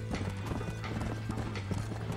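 A galloping horse in the video game Red Dead Redemption, with rapid rhythmic hoofbeats clopping close and loud over a steady low drone, a brief whinny mixed in.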